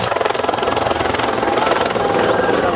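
Mil Mi-24 Hind military helicopter at an air show, its rotor and turbine roar loud and steady with a rapid blade chop throughout, close and continuous with no talk over it.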